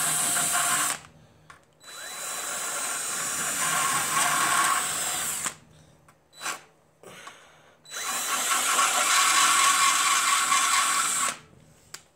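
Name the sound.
carbide bit grinding on a car fender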